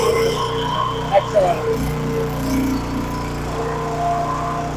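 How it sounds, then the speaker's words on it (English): Engine of a mobile repair truck fitted with a repair module turning over and idling at a steady, close-up rumble, with an air compressor running alongside and brief louder bumps near the start. "Engine run. All right, Big Jenny, let's see what we got here."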